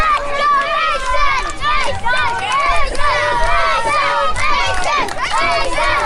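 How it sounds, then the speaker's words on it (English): A street-fight wrestling crowd chants and shouts for hometown wrestler Mason Beck, a loud, dense mass of voices with rhythmic yelling sustained throughout. "Crowd chanting for Mason Beck"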